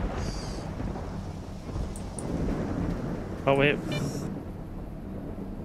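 A lightning anomaly in S.T.A.L.K.E.R. Shadow of Chernobyl crackles and zaps in a brief, sharp burst over rumbling wind and outdoor ambience, with someone briefly speaking.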